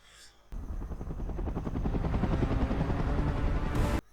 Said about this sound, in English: Is that the enemy chopper?